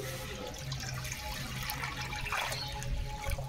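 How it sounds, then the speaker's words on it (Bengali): Water pours into a metal wok, a steady close splashing rush with a faint low hum beneath. "কড়াতে জল দিয়ে দিচ্ছি।"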